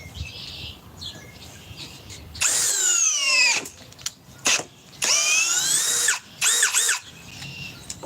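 Power tool fitted with a chrome socket, likely an impact wrench rated at 850 inch-pounds, runs in about four loud bursts of spinning whine that rise and fall in pitch, with short quiet gaps between and no clear hammering.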